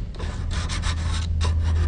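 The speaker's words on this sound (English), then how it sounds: "We're just polishing now." Steady rubbing and polishing of metal on the action face of a British side-by-side shotgun during rejoining, a continuous close friction hiss with slight surges, no talking.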